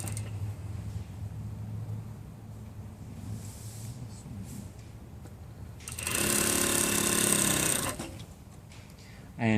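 A home sewing machine stitches a shawl collar from notch to notch, quiet background hum giving way to a loud, fast mechanical whirr of stitching for about three seconds near the end.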